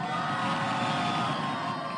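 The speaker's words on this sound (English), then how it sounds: "Let's give him a round of applause." Crowd at a Unite & Win political rally for Governor Ron DeSantis in Dade County cheers and whoops loudly, a dense continuous roar of voices with applause filling the space, steady for two seconds.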